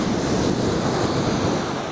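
Ocean surge rolls against a metro fishing beach, a continuous loud roar of surf with wind buffeting the microphone throughout.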